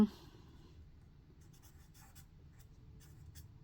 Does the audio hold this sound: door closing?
no